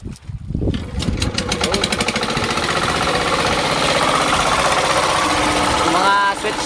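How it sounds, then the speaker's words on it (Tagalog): A generator engine on a fishing boat starts up and settles into a steady, loud running drone with a buzzing vibration that holds evenly to the end. "Pandar na lang muna ng generator para makapailaw na,"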